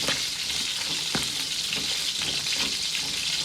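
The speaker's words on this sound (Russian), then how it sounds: "картошка уже варится, котлетки жарятся" Chicken cutlets frying in a pan, a continuous close sizzle and crackle with a few brief stirring clicks and no voices.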